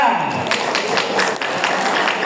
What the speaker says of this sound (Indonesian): Tepuk tangan buat MAPK.